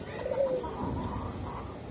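Magpie pigeons, including a high-flyer magpie, give a soft, low cooing call, one brief coo standing out over a steady murmur of birds and background noise.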